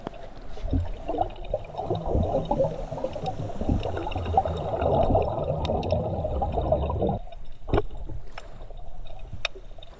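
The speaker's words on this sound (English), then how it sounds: "thought it would be pretty cool to blow some bubbles in a cave" Bubbles blown out underwater inside a sea cave during a dive, a steady bubbling and gurgling rush lasting about seven seconds, close to the microphone, then cutting off to quieter water with a few faint clicks.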